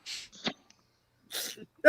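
A short, breathy sneeze with a sharp burst at the end, close by, separated by quiet gaps and followed by a brief voiced sound.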